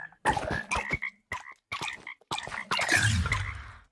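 Frogs croaking in the MOBCHOP video game, a burst of several short, raspy croaks in uneven succession ending in a longer noisy croak, close and fairly loud with no talking.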